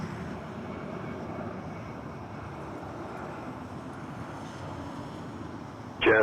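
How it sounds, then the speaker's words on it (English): A distant jet airliner rumbles steadily at Toronto Pearson airport, a broad continuous roar with no voices, ending in a sudden louder burst. "these planes also make a really cool noise."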